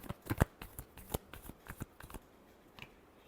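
Tarot cards are shuffled in a final round of sharp, irregular riffles and snaps, close and crisp, ending in a few scattered taps with no talking.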